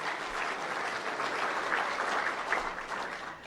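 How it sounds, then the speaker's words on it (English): An audience in a hall applauds family caregivers with steady, dense clapping that holds at an even level for the whole stretch. "A round of applause for our family caregivers in the room"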